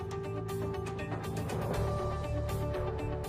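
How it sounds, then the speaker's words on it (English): Ratcheting clicks from loosening the fixing elements of a Blanco Metra 5 S kitchen sink, a rapid series of close, sharp mechanical ticks with some creaking, repeating throughout. "Now loosen the fixing elements and lift the sink out of the cutout again"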